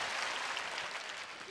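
Crowd clapping during a Republic Day celebration performance at an Islamic school in Akkalkuwa, a brief, fairly faint wash of many hands applauding in a large space.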